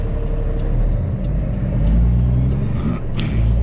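A vehicle engine rumbles loudly and steadily through its muffler, a deep, close exhaust drone that swells slightly midway, with no voices.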